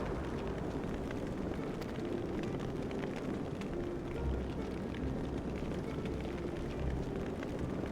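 A heavy explosion blast rumbles on and on in Final Fantasy XIV during the Final Coil of Bahamut Turn 4 raid. It is a dense, steady roar with a deep low rumble and small swells, and no voices are heard.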